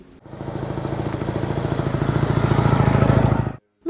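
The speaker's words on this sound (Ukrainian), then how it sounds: "Мотоцикл може їздити зі швидкістю 80 км на годину." An MT-9 Dnipro motorcycle engine, built by volunteers in a Vinnytsia region workshop, runs with a steady rapid chugging that builds gradually louder over a few seconds before cutting off abruptly.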